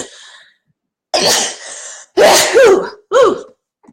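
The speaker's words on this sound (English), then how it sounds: "I'm going to sneeze here in a minute" A person lets out a series of loud, close bursts: a sharp sneeze followed by gasping, coughing sounds in quick succession, separated by brief silences.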